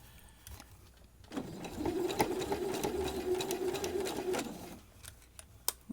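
A sewing machine stitches a seam on a quilt block, its motor whirring steadily for about three seconds before stopping, with small clicks and handling noises before and after.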